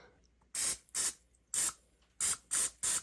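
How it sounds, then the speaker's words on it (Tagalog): A handheld spray bottle fires six short, sharp hissing bursts in an uneven rhythm, close and loud, with silence between squirts. "Ayan, i-spray tayo."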